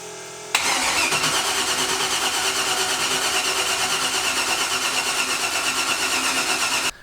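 A car engine with a weak battery cranks continuously with a steady, rhythmic churning for several seconds, then cuts off abruptly without catching.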